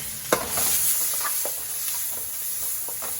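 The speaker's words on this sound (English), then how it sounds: "We're just gonna fry those up for a little bit" Onions seasoned with a little seasoning salt fry in a pan for a mac and cheese lasagna, giving a steady close sizzle with occasional stirring clicks and scrapes, no talking.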